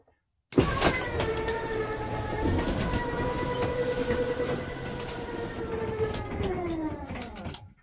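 An RV slide-out retracts into the camper with a steady mechanical motor whine and rumbling drag that runs several seconds, loud and close, before cutting off near the end.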